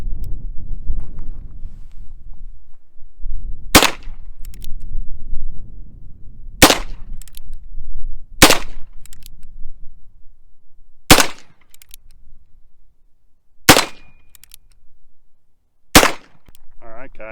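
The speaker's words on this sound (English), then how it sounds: "I just finished shooting those first 6 rounds" Six sharp gunshots from a Ruger-style Rough Rider .22 magnum revolver ring out one at a time at irregular gaps over roughly twelve seconds, each loud crack standing alone against quiet outdoor background.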